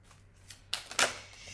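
Tarot cards riffle-shuffled at close range in a few quick bursts, the second one loudest, with light card handling between them.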